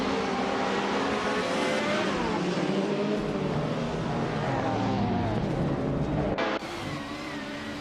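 A pack of race cars roaring off the line at a race start in a video game, including a 1996 Opel Calibra DTM, engines loud and continuous with layered revving before cutting lower.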